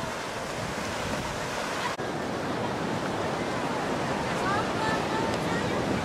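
Waves rolling onto the beach at Ballesteros, Cagayan during a festive gathering, a loud continuous wash of surf with wind buffeting the microphone and voices mixed in.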